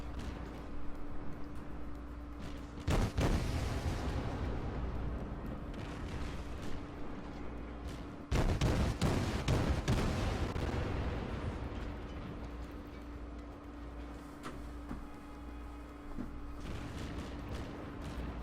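Naval gunfire in the World of Warships video game, with heavy booming salvos bursting out over a constant low rumble of engine and sea ambience, loud and close, no talk.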